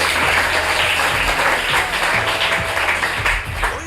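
A group applauds top-ranked students at a school ceremony, a dense continuous burst of clapping with steady low background hum or music running underneath throughout.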